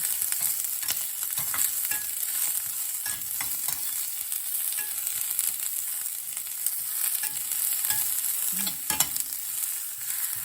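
Garlic and onion fry in a very hot pan with steady crackling sizzle, scraped and stirred throughout with occasional sharp utensil taps, close and alone with no voices.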